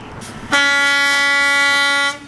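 A loud, sustained horn blast with a steady chord-like tone lasts about a second and a half, then cuts off.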